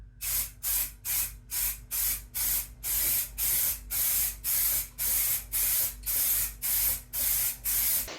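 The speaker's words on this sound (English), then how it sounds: "So I've given it 2 coats of primer." Primer sprayed in repeated short bursts onto a routed poplar guitar body, about fifteen even hissing pulses with brief gaps, close and steady, no talk.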